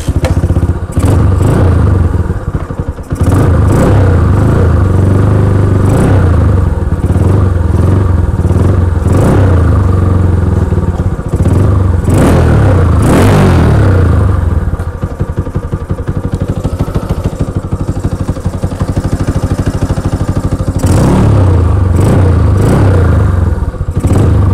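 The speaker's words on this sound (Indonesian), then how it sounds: "sekian video cek sound dari motor ini pada project kali ini" A custom Yamaha Scorpio tracker-style motorcycle running throughout, its engine loud and close with a steady idle and repeated sharp throttle blips and revs.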